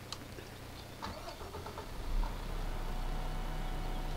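A GMC truck engine in Farming Simulator 15 cranks and catches, swelling to a steady low idle rumble that holds, close and moderately loud, with no talk over it.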